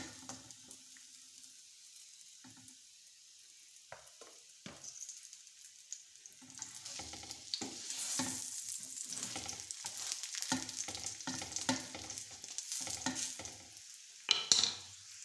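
A chicken keema paratha fries on a pan over a low flame, first faint and sparse, then a steady soft sizzle that builds with light scraping and a few louder clatters near the end.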